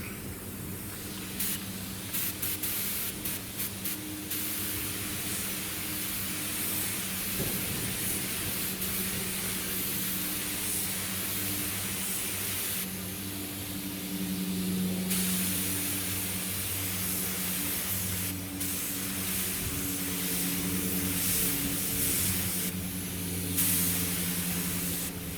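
Continuous hissing spray from a spray gun, steady and close, with a few brief pauses and changes in intensity over a long stretch.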